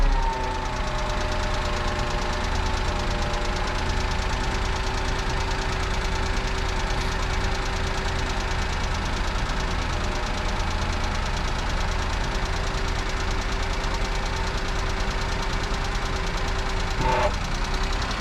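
Japanese Hijet mini truck engine fitted with an aftermarket eBay carburetor runs steadily at idle, a loud, continuous, slightly knocking drone close by, unbroken for the whole stretch, with no talking.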